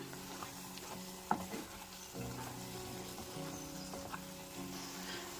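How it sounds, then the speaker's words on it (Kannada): Masala for a mushroom ghee roast stirred and roasting in ghee in a pan, a faint, steady sizzle with soft scraping stirs and one brief sharper clink. "ಈ ಮಸಾಲಾನು ಅಷ್ಟೇ ತುಪ್ಪದಲ್ಲಿ ನಾವು ಚೆನ್ನಾಗಿ ಹುರ್ಕೋಬೇಕಾಗುತ್ತೆ."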